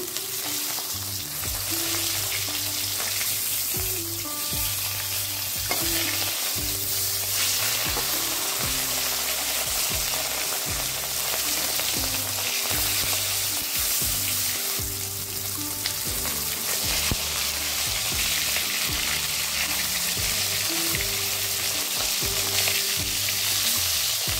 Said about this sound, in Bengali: মাছ ভাজা হয়ে গেছে, উঠিয়ে নেব।